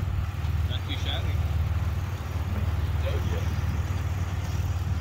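A supercharged 3.8-liter car engine with its muffler deleted idles nearby with a steady, throaty low rumble, while people talk faintly over it.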